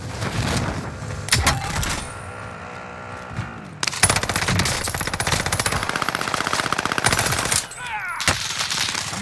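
Call of Duty: Rebirth Island gunfire, with loud rapid automatic bursts and single shots that crack close by. A long sustained stream of fire runs through the middle, set against ongoing game background noise.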